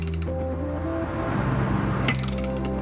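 A ratchet with a 7/8 socket threads an insert into a stripped aluminum oil pan bolt hole, giving short clicking ratchet bursts at the start and again near the end, close and clear.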